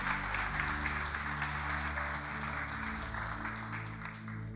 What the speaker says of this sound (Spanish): Un aplauso al Señor por ellos y por Cristina.